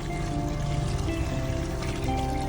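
A continuous rushing pour of water, steady and close, as a pot of boiled macaroni is drained, with no talking.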